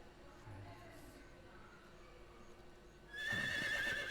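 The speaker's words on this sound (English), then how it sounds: "I hear horse noise." A horse in the stealth action game Metal Gear Solid Delta: Snake Eater lets out a loud, sharp whinny near the end, rising suddenly over a steady bed of ambient game background sound.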